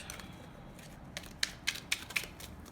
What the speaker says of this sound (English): I'm going to be shuffling on camera, see what comes out.